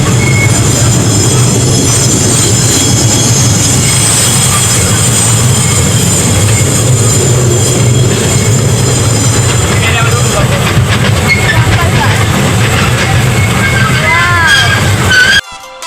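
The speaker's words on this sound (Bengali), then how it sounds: "এইটা হচ্ছে এই রাইডটার ভিউ ট্রেনে বসে।" A small amusement park ride train at Adventure Land runs along its track with loud continuous rumbling, rattling and squealing wheels, recorded from a seat on board, with a voice speaking over it.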